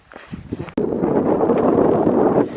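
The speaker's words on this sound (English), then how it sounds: "It's windy. I think the hills have been sheltering. Just come up over this hill and the wind hit." Loud, steady wind roars and buffets the microphone on hilly terrain along the Heysen Trail after a brief rustle at the start, with no voices.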